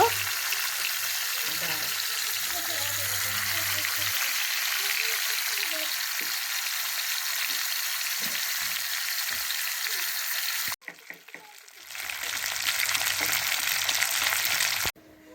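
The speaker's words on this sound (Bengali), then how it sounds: "তেলটা গরম করে নিয়েছি তেলের মধ্যে আমি এক এক করে সব মাছগুলো ভেজে নেব" Bhola fish frying in hot oil makes a steady, close sizzle that cuts out briefly and then returns just as strong.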